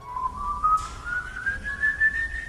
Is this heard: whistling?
yes